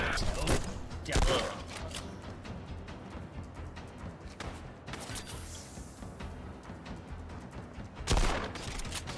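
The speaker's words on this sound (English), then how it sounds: "You guys ready for the power of revolver shotgun again?" Revolver shotgun gunfire in a video game, several loud blasts at the start, middle and end over a constant game background, with a voice talking throughout.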